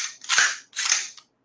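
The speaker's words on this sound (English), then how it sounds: "You got a charging handle here, okay? You pull that back." An AR-15 rifle charging handle is pulled back with an empty magazine well, giving two crisp metallic clacks a half-second apart, loud and close with silence after.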